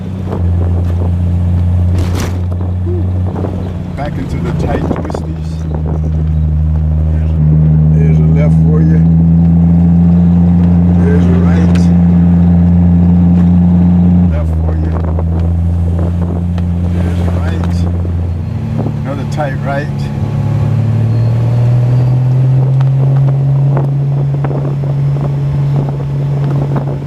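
A Triumph TR6 sports car pulls uphill in third gear on twisty roads, its engine droning loud and close with pitch shifts as the revs change, accompanied by wind noise on the microphone.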